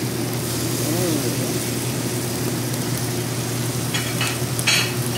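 Squid adobo with zucchini, soy sauce, vinegar, chicken stock and chili flakes fries and sizzles in a pan while being stirred, a continuous loud hiss with occasional scraping, a voice speaking over it.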